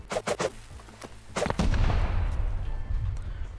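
A satchel charge explodes against a door during a raid in the video game Rust; a few sharp cracks come first, then one heavy close blast with a long, rumbling decay.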